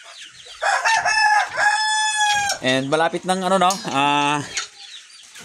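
A fighting-breed rooster crows loudly nearby, followed by a second drawn-out crow and some clucking from backyard chickens, while a person speaks briefly in Filipino at the start.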